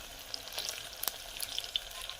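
Onions frying in a pan for a crunchy masala dish, with a steady close sizzle and a few light stirring scrapes, no voices.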